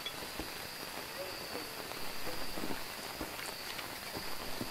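Steady rain falling in the video game Phasmophobia at the Maple Lodge Campsite map, a constant soft hiss with faint footsteps and insect-like chirps mixed in.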